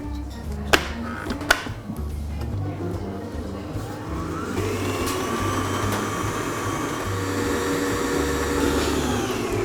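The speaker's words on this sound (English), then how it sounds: "I'm going to mix that all together on a medium to high speed for about 1 minute" An electric mixer beats butter and two large free-range eggs for coconut cupcake batter, its motor starting with a few knocks and then holding a steady, loud whirr at medium-high speed.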